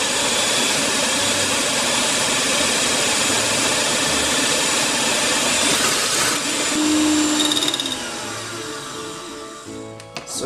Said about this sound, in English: I have an egg white out from the egg yolk just now. I'm just going to whisk it.